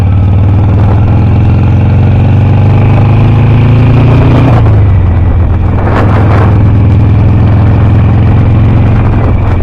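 A 2006 Harley Davidson Sportster engine runs loud and close in second gear, its steady low rumble shifting pitch as revs drop near the middle, with wind and road noise throughout.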